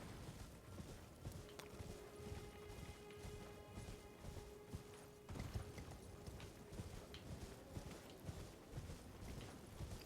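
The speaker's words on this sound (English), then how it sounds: "Climbing up the cliff on the horse." In the video game Elden Ring, a horse's hooves clip-clop in a steady rhythm while climbing a cliff, with faint ambient game sound beneath.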